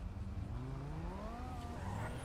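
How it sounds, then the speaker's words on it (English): A loud Cummins-swapped 6x6 G-body truck in a video game revs up, its engine note climbing steadily in pitch over a rough rumbling drone, with no talk. "You like my really loud Cummins swapped fucking 6x6 G body?"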